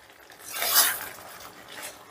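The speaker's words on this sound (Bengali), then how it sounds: "এবারে নুন আর চিনিটাকেও একটু ভালো করে মিশিয়ে নেব।" A spoon scrapes and stirs through chili fish sauce in a pan while salt and sugar are mixed in, a brief swelling scraping rasp rising and fading.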